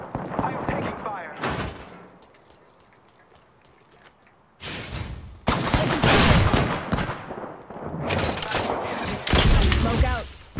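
Bursts of rapid gunfire in Apex Legends, including R99 fire, come in loud clusters separated by a quieter stretch, with a player talking over parts of the action.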